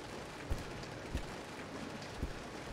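Steady rain patter in the Resident Evil 0 HD remake, a faint continuous hiss with a few soft low thumps spaced through it.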